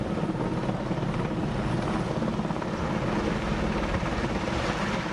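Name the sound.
waterbombing helicopter over burning landfill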